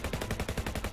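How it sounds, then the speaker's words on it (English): Rapid automatic gunfire in the Final Fantasy 7 The First Soldier video game, a fast even stream of sharp shots packed closely together, fairly loud with no voices. "You telling me they don't hear the gunshots?"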